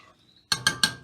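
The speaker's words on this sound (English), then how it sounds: "So now we're gonna just stir that all up." Christmas vegetable soup being stirred in a pot: after near silence, three sharp, evenly spaced metallic clacks ring out as a spoon knocks against the pot, each one close and distinct.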